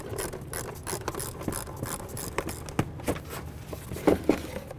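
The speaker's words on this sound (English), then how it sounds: "We're going to loosen this up" An 8mm ratchet loosening a clamp on a Jeep Liberty during front upper control arm work, with quick rasping ratchet clicks close by over a few seconds and no voices.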